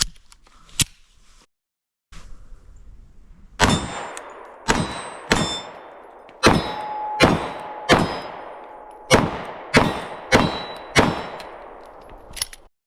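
Ten or more loud pistol shots from a Sig P365XL Spectre Comp firing Remington 147 grain bonded jacketed hollow points, spaced in a steady string at roughly half-second to one-second intervals, each with a bright metallic ring and short decay.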